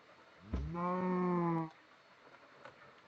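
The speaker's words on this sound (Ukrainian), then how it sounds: "Так тихо, корови!" A single drawn-out bleating Minecraft cow moo sounds about a second long against a quiet background.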